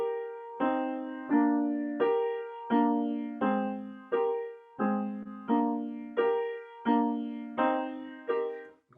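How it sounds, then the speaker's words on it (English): Orchestral horns play a slow, majestic theme modelled on the wingbeats of swans: a steady, swinging pattern of repeated swelling notes, each attack fading before the next, alone without talk. "It sounds like this, and we hear it on the horns."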